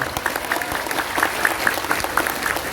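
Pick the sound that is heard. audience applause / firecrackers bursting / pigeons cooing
audience applause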